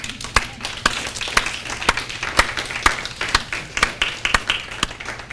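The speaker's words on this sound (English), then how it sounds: "I want to give them a round of applause" An audience applauding at a special community event, heard as a steady, fairly close patter of hand claps with individual sharp claps standing out over about five seconds.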